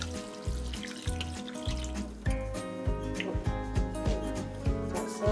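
Sauce poured into a pan of cooked beef and broccoli, giving a steady liquid sizzle and trickle with brief clinks of a container against the pan, close and fairly loud, with no talk.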